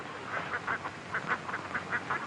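Ducks quack in a quick run of repeated nasal calls, fairly close and steady, with no voices over them.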